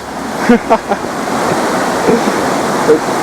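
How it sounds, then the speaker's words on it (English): Strong, cold river current rushing over small rocks in Nepal, a steady broadband roar of churning water close to the microphone, with faint voices and a few short splashes or knocks near the start. "The river is absolutely freezing. The current is really strong"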